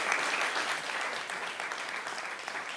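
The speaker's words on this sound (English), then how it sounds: "And so they really also deserve a round of applause." An audience at a PEN World Voices literary event breaks into a dense, steady round of applause, a continuous wash of many hands clapping.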